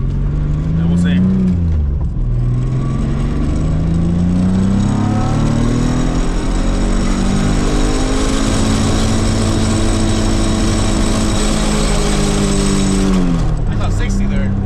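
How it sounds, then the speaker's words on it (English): A Nissan S13 engine revving hard in second gear up to the rev limiter, a loud, close, rising drone that climbs steadily then bounces off the limiter before dropping away. "I'm just gonna let it hit the limiter on 2nd gear"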